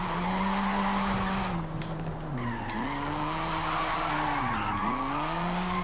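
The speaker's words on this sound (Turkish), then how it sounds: "Biraz karanlıkta drift yapalım." A stock Mazda RX-7 with automatic transmission drifts at night through Japanese streets in the video game Forza Horizon 5. Sustained tire squeal and skidding ride over a loud engine whose pitch sweeps down and back up as the car slides.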